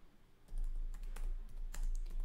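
Keys clatter on a computer keyboard as a terminal command is typed, a quick run of close, crisp clicks in uneven bursts over a low steady hum.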